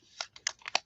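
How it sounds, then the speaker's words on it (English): Quick, light keystrokes on a computer keyboard: about five or six crisp clicks in an uneven burst, close by and fairly soft against a quiet background. "So I'm going to type it in now"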